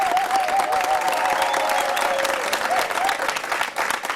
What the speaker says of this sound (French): je vais demander à notre public de s'applaudir bien fort